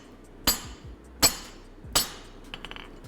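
Three ringing hammer blows land on hot steel while a cross peen hammer is forged, each one a sharp bright clang spaced under a second apart, followed by a few faint clinks.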